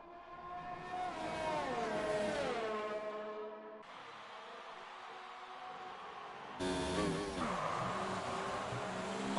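An F1 race car in a video game at the Mexican Grand Prix whines loudly, its engine pitch dropping under braking as the right front tyre locks up, then shifts to new engine notes after sharp cuts.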